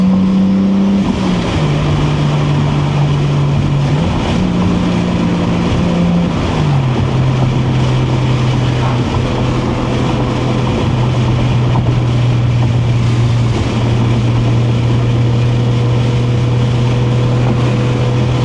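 A 1989 Toyota Supra cruises along back roads on a cold early morning, its engine holding a steady, close droning hum with shifting pitch, mixed with constant wind rush and no talking.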